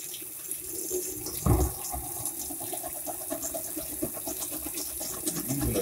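Running tap water splashes steadily while a dish is washed with soap, a continuous close wash with one louder clatter early on.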